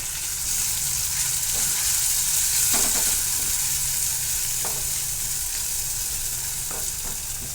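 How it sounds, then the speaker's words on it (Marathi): Homemade masala sautéing in oil for a Maharashtrian hadga (agathi) bean pod dish, a dense, even hiss of frying with occasional soft stirring knocks, close and unbroken by talk. "हा घरगुती मसाला टाकून घेणार आहोत तो देखील आपण व्यवस्थित परतून घेणार आहे"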